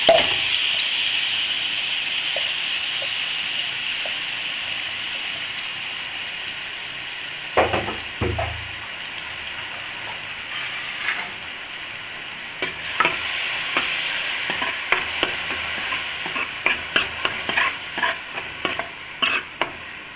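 Ground paste of onion, ginger, garlic, tomato and chilies frying in a pan for aloo choliya, with a steady bright sizzle throughout and repeated close stirring scrapes growing more frequent later.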